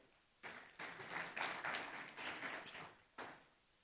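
Audience applause at a Kenyan diplomatic dialogue event, several bursts of clapping from a modest crowd, fairly faint and somewhat distant, with brief pauses between bursts.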